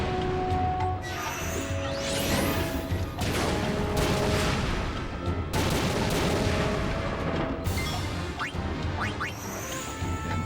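A fireworks attack in Final Fantasy X-2 fills the clip with loud, dense bursts of crackling explosions and booms, several separate volleys with brief gaps between them.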